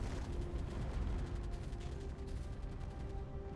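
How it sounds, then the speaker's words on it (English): Continuous rumbling barrage of booms and blasts in the video game Space Engineers, dense and loud, with no gaps between the explosions. "The explosions hitting everywhere."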